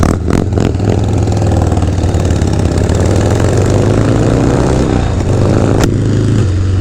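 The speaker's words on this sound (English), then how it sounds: "We got the old Sportster chugging along." A Harley-Davidson Sportster motorcycle engine chugging along, a loud, close, continuous low rumble with a few sharp knocks near the start.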